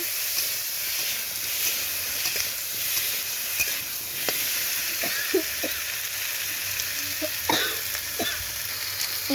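Chillies crackle and hiss in hot oil in a pan while a utensil stirs them. A steady bright sizzle carries scattered scraping knocks of stirring, close up and constant.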